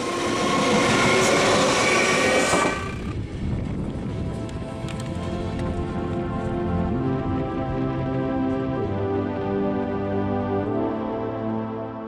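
A regional S-Bahn-area train pulls out of a station near Stuttgart on the Frankenbahn line, a loud steady rumble with rolling wheel noise and a low drone that continues throughout, after a brief louder burst at the start.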